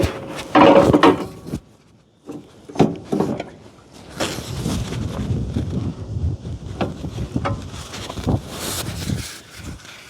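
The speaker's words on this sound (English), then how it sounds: "I will quickly mount the motor to show you how this whole thing works." A Cyclone Rake motor being mounted onto a truck hitch outdoors: a few scattered clunks and knocks of heavy equipment handling, close by, over steady wind noise on the microphone.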